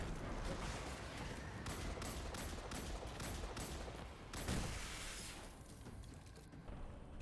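Gunfire and rocket blasts from a Destiny 2 firefight against an unstoppable ogre, a rapid burst of repeated shots that thins into a few fainter reports, dense and busy throughout.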